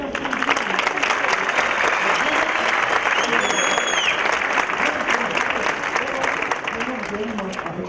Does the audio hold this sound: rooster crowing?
no